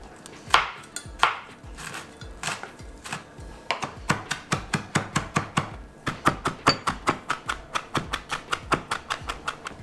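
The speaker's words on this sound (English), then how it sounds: "we want to chop up our chilies." Chilies being chopped with a knife on a board while making a lamb keema samosa filling: quick, steady, close knocks that speed into a brisk run of even chops, with no talking.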